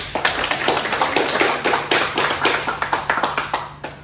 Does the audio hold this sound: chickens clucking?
no